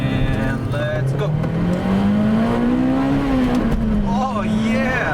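A Toyota Celica GTS fitted with a short shifter accelerates at full throttle, its engine droning loudly and climbing steadily in pitch, heard from inside the car with a person talking over it.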